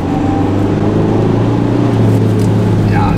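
Diesel car engine revving at full throttle after its clogged particulate filter was cleaned, a loud, close, sustained drone with a steady low hum and slight rise midway, with brief talk near the end.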